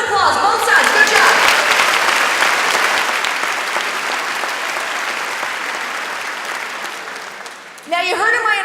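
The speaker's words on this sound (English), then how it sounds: "Round of applause. Both sides." An audience breaks into loud, dense applause that fades slowly over several seconds. A voice starts talking again at the very end.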